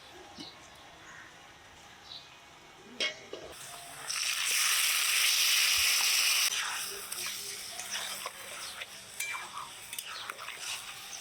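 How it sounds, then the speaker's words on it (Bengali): Marinated mutton hits hot oil with fried onions, bay leaf, cumin and garam masala in a pan, bursting into a loud, steady hiss for a couple of seconds before easing to softer sizzling with scattered clinks. "পেঁয়াজগুলো ভাজা ভাজা হয়ে গেছে এবার মেখে রাখা মাংসটা দিয়ে দিবো"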